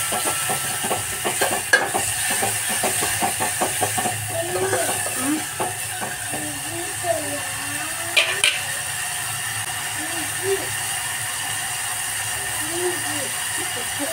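Chopped tomatoes added to ginger-garlic masala frying in a pan, with a steady sizzle under repeated scraping and clattering stirring strokes, plus a few sharp metallic knocks, while someone talks over it.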